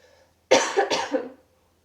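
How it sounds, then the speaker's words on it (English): Two quick, harsh coughs from a sick person with an irritated throat, in close succession, loud and close, with silence before and after. "I have the sensation in my throat and I just keep coughing and nothing's stopping it"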